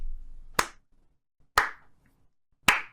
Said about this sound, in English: He's clapping to that.